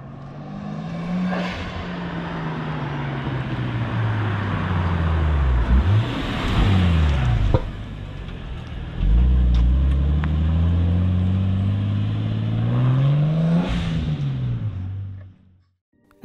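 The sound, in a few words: Porsche 964 driving on new wheels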